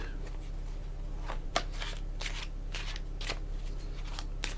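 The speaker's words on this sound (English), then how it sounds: "Give these a quick shuffle before we pull 3 from here." Tarot cards riffle and snap together in quick repeated shuffles, close and fairly soft, over a steady low hum.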